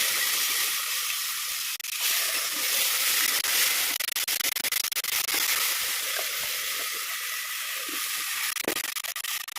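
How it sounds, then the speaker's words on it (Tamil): Onion, chilli, ginger and garlic paste sautéing in a pan on the stove for tomato rice gives a steady, loud sizzle and hiss that runs throughout, with occasional soft clicks of stirring. "இது வந்து இப்போ நல்லா வதங்கிக்கிட்டு இருக்கணும் அடுப்பில்."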